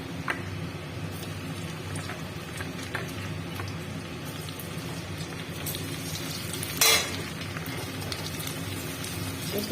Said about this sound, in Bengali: তেলে রসুন কুচি দিয়ে দিলাম একটু তারা ফুটিয়ে দিলাম